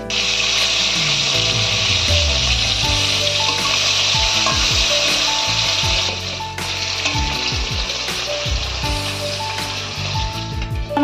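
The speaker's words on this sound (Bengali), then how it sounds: "তেলটা আমাদের ভালোভাবে গরম করে নিয়েছি, এবার একে একে আমরা মাছগুলো তেলেতে ছেড়ে দেবো।" Parshe fish frying one by one in hot mustard oil in a kadai, a loud continuous sizzle and crackle broken by scrapes and knocks as the pieces are stirred and turned.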